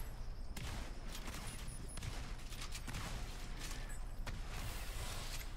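Rapid gunfire from a third person shooter video game fills the whole stretch, with dense volleys and repeated bursts over a constant loud game din.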